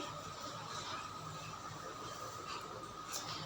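A bay leaf sizzles in hot oil as tempering for moong dal with fish head, giving a faint, steady hiss with no breaks or talking.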